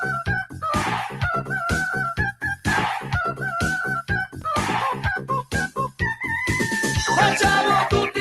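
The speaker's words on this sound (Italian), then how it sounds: "Il gallo" A rooster crows repeatedly in a loud, close, rhythmic series of cock-a-doodle-doo calls, mixed in with clucking fowl throughout, with no talk over it.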